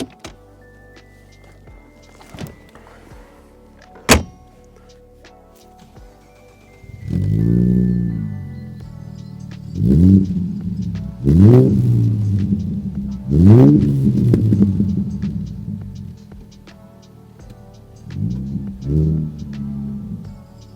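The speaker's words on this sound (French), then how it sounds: "allons faire un démarrage de la voiture pour faire un essai routier" A 2017 Morgan Roadster V6 3.7-litre with modified exhaust, heard first as a few clicks and a thunk, then the engine firing and a series of deep revving surges as the car pulls away, close and rumbling.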